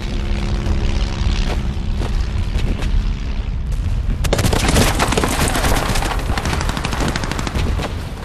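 An artillery barrage on the British front at the Somme makes a dense, loud, continuous roar of rapid overlapping firing that grows fiercer partway through and keeps pounding without pause.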